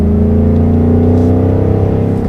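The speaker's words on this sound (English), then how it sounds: "We'll just give it a little gas from third gear." A 2019 Ford Mustang Bullitt engine revs under light throttle in third gear, a loud, steady, deep exhaust drone close to the listener with no talking.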